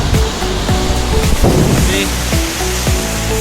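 A swollen river roars steadily beneath an iron bridge in Pane village, Konkan, under a rumble of passing traffic, with a few horn-like tones and engine noises over the torrent.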